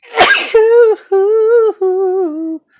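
One sharp, loud sneeze, followed straight away by a voice making a few drawn-out, sing-song vocal sounds.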